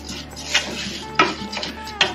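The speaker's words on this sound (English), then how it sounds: "So we are gonna fry this rice here." Rice frying in bacon grease in a pan, stirred with a utensil that gives three sharp scraping clinks against the metal over a soft background sizzle.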